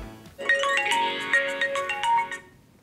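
Smartphone ringtone for an incoming call: a bright, melodic electronic chime of quick repeated notes, clear and close, playing for about two seconds before stopping.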